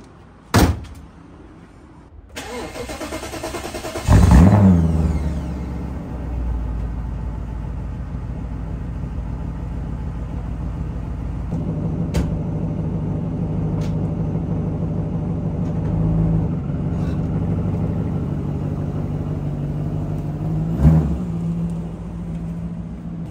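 A Brabus E65 Mercedes W210 engine catches with a loud burst after a door thud, then settles into a steady, rumbling idle that runs on evenly with a brief blip near the end, no talk.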